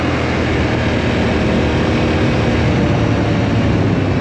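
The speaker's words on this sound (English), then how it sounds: "The bike really hooks up and I can actually get a lot of, you know, speed just off of those bursts." A Yamaha Tenere motorcycle on a dirt trail roars in a dense, steady engine drone, loud and close throughout with no voices.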